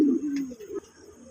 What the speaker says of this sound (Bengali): যে কবুতরটি দেখা যাচ্ছে, এটি রাজশাহী গিরিবাজ।